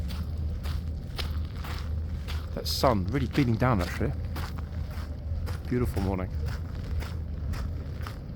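Steady crunching footsteps on fine gravel, close and rhythmic, with someone talking over them partway through.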